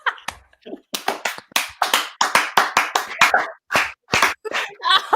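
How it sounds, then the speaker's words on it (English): A small group on a magic show held at home claps in quick, uneven bursts with short gaps between them, loud and close, while voices chatter over and between the claps. "We're going to applaud for Sabrina"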